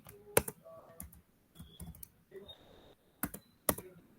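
Computer keyboard keys tapped while writing JavaScript DOM code, a few short bursts of crisp, close clicks separated by brief pauses, with no one talking.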